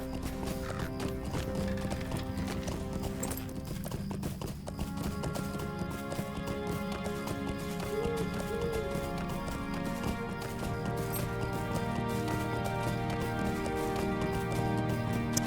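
A horse gallops in Lord of the Rings Online, its hooves clopping in a quick, continuous rhythm over a steady background bed, with an occasional whinny.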